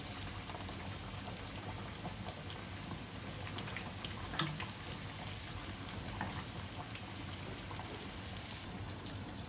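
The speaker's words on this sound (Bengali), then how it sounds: "এটা মিডিয়াম আছে, ধীরে ধীরে ব্রাউন করে ভাজবেন, খুব বেশি হাই হিটে ভাজতে যাবেন না" Coral fish cutlets frying in a pan over medium heat, a soft continuous sizzle and fine bubbling crackle at low level, with no voices.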